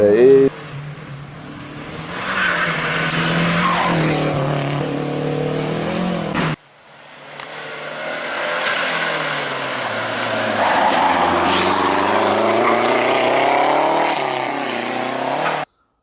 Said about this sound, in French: il contre-braquait, le frein à main, et il a réussi à faire glisser